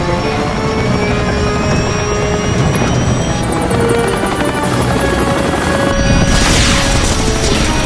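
A helicopter with a failing rotor in a sci-fi action film: a loud, continuous rotor and turbine roar with whining tones and metallic crackling, rising into a harsher, brighter burst toward the end, with no voices.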